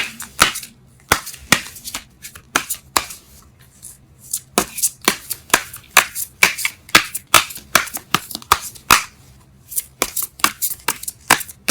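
Tarot cards being shuffled by hand in a rapid series of crisp, close riffles and slaps, irregular bursts with short pauses between them, no speech.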